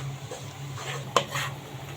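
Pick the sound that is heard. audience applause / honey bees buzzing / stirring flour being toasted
stirring flour being toasted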